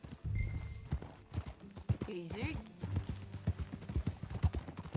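Horse hooves in the Red Dead Redemption 2 video game, a rhythmic clip-clop at walking pace with a brief whinny midway, heard under a man's speech.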